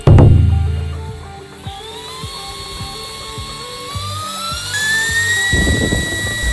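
A tiny portable mini air pump at its highest power setting whines steadily, rising in pitch as it runs, after a sharp thump at the start; a continuous close mechanical drone.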